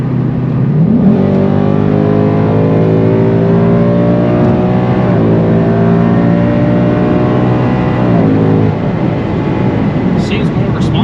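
A car engine revs hard after a cold air intake install, climbing and falling through repeated loud acceleration sweeps, heard up close.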